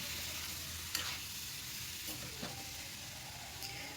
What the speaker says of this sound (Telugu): ఇప్పుడు ఈ ఉల్లిపాయలోకి, పోపులోకి అంటే నూనెలోకి బాగా మిక్స్ అయ్యేలాగా చికెన్ని మిక్స్ చేసేద్దాం.